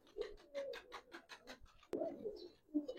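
A pair of pigeons coo close by in soft, repeated rolling calls, with one sharp click partway through.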